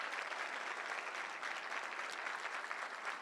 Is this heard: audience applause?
yes